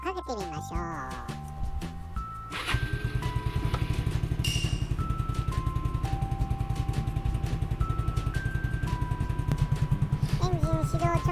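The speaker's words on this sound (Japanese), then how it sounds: "エンジンをかけてみましょう" A Yamaha Majesty 125 scooter with a charging fault cranks briefly, catches and settles into a steady, close, rhythmic single-cylinder idle, with a few short chirps and clanks over the early part and a talking voice in the background.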